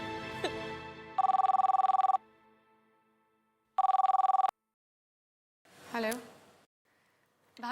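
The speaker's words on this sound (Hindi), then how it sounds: "आपका फोन है" An electronic telephone rings in two long trilling bursts separated by a pause, loud and close, with brief voices before and after.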